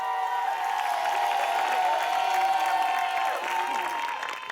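Audience applause at a comedy theater show, a steady wash of clapping and crowd noise filling the room, with a sustained tonal element and some voices underneath.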